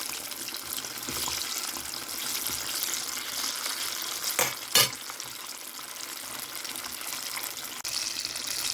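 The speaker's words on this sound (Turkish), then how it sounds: "Patlıcanlarımı kızartmaya başladım." Steady hiss and crackle of eggplant frying in hot oil for karnıyarık, with a couple of brief louder clatters midway.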